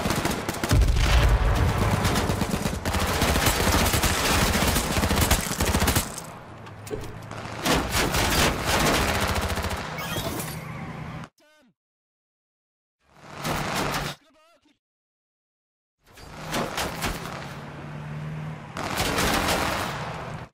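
Rapid bursts of gunfire from the H1Z1 Auto Royale car battle mode crackle loudly in dense volleys, broken by short stretches of near silence before the shooting resumes.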